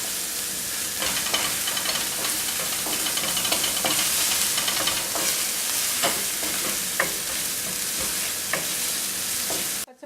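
Green chillies sauté in hot oil for chilli chicken, a dense, steady sizzle with frequent soft scraping taps of stirring, close and even until it cuts off at the end.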